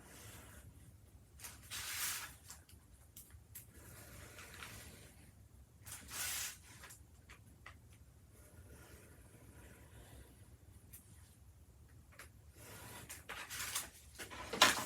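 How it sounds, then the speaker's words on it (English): A blade cuts an opening in medium-weight chipboard inside a paper bag. The quiet, close scraping comes in several short rasping strokes spaced a few seconds apart. "with that hardboard inside, which is medium weight chipboard, I am just going to cut around to cut my opening"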